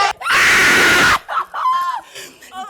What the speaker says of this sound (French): Cris de joie et de soulagement cet après-midi de ce lundi 8 juillet